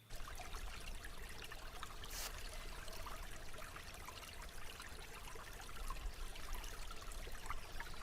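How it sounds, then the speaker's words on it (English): A stream of water trickling continuously at low volume, a steady babbling wash with no talking. "So let's start with a stream of water."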